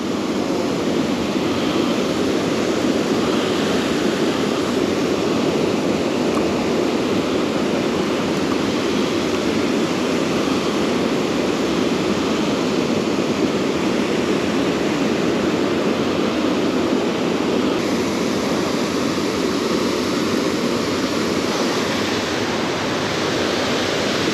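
Steady, loud roar of a waterfall cascade pouring into water at a carp fishing spot, continuous broadband rush with no breaks and no voices over it.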